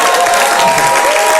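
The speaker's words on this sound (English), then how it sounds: "Calls for applause now." A studio talk-show audience gives loud, dense applause with some crowd noise and a steady tonal hum underneath, sustained without a break over a short stretch.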